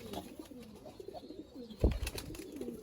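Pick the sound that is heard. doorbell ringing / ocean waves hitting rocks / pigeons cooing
pigeons cooing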